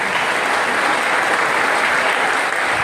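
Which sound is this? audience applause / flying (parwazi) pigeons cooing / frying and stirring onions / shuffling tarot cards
audience applause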